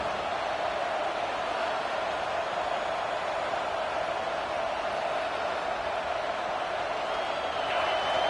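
A football stadium crowd in Texas roars during a tense third down late in a close game, a dense, steady wash of noise holding even loudness throughout, with no single voice standing out.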